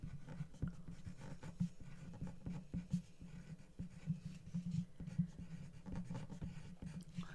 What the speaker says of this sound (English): You pick up your pencil, you write your name, bottom right corner.